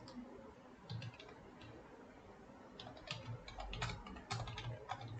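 Computer keyboard typing while writing JavaScript code, with irregular bursts of quick, close, fairly quiet key clicks and pauses between them, heard alone without talk.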